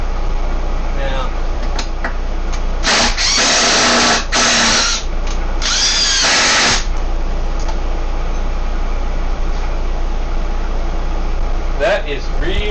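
A Ridgid power drill whines in several short, loud bursts of rising and falling pitch over a constant background hum, with a faint higher whir near the end.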